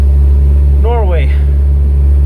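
An old British car drives slowly through snow in Norway in October. A steady low engine drone runs throughout, close and loud, while a voice speaks briefly over it.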